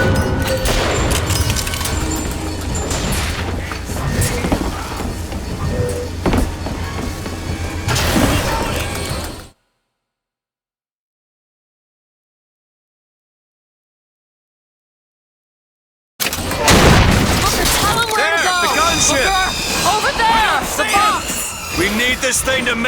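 Rocket explosions and gunfire from the video game BioShock Infinite, with gunships in the fight, arriving as loud crashes and booms within a dense battle soundscape, broken by several seconds of total silence midway.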